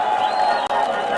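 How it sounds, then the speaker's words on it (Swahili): Crowd noise at an outdoor political rally in Bungoma, a sustained wash of applause and cheering from a large gathering, steady and dense throughout with a brief dip near the middle. "Mujipigie makofi, mujipigie makofi nyinyi wenyewe."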